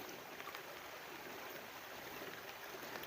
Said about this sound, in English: right at the stream.